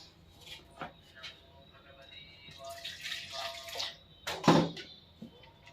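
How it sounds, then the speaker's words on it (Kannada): Lukewarm water splashes and trickles into a vessel in short bursts, with a louder pour near the end and quiet background noise. "ಒಂದು ಉಗುರು ಬೆಚ್ಚಗಿನ ನೀರು ಹಾಕ್ಕೊಳ್ಳಿ"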